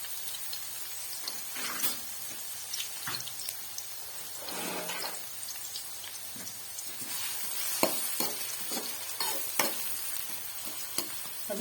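Chopped onions frying gently in a pan over a low flame, a soft continuous sizzle with occasional stirring scrapes, fairly quiet and close, with no voices.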